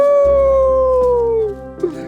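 In the VR game House Flipper Pets, a virtual dog lets out one loud, close, sustained howl that falls in pitch and fades out after about two seconds.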